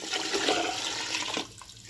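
Measured water poured from a vessel into rice for a variety pulao, a steady loud splashing gush lasting about one and a half seconds before cutting off, with no talking.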